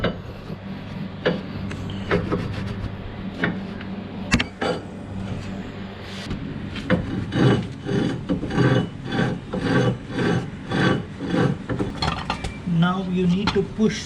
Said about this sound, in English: Clean the rotor.